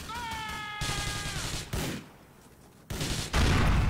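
Gunfire and explosions from a video game shootout with shotguns and grenades, heard as loud bursts of fire in several blocks, with a brief tonal game cue at the start.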